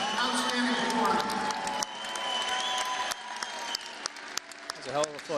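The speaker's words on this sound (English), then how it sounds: "let's give both these round fighters a big round of applause" Crowd applause and cheering for two boxers after a hard-fought bout, sustained clapping with whoops rising and falling over several seconds, an announcer's voice mixed in over the noise.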